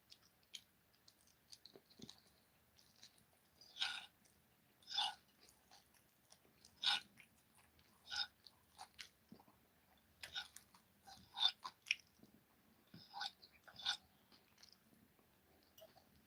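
Someone chewing fried tilapia fish up close, with soft wet bites and crunches coming in irregular bursts against a quiet background, no talking.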